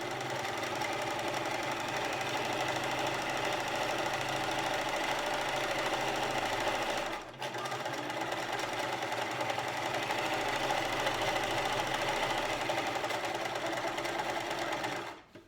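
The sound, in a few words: sewing machine sewing a seam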